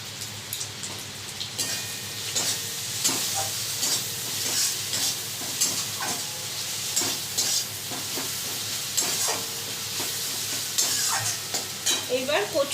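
Spice masala frying and being stirred in a pan for a Bengali dish of taro leaves cooked with hilsa fish head, a steady loud sizzle with scraping stir strokes throughout, no voices.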